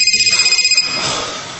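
A telephone rings in a short electronic burst of rapid repeated pulses, loud and close, then stops as room noise and faint voices carry on.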